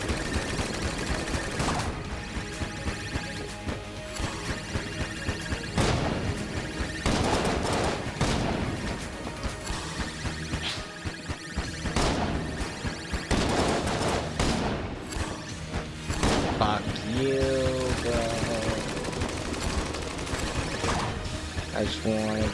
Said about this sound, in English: This is more what I expected from the Pulse Cannon.